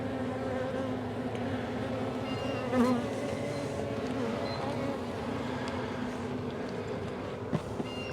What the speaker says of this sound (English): There's quite a few bees in here, so I'm going to open this cage up